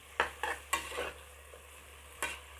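Onions sautéing in a pan for mutton biryani, a soft sizzle under several sharp scraping strokes of a spoon, spaced irregularly and close by, with no talk.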